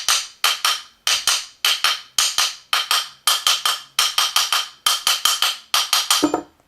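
Repeated sharp taps of a piece of wood against an upturned Manurhin MR88-DX revolver to knock a side plate loose, struck in quick bursts of three or four close, crisp knocks with brief pauses between groups, loud and alone.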